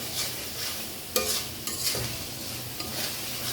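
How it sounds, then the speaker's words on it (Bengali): Potatoes and spice masala cooked down in a pan for red spicy chicken kosha, with a spoon scraping and stirring over a steady low sizzle; two louder stirring strokes stand out, and no one speaks. "মশলাটাকে কষিয়ে নিচ্ছি।"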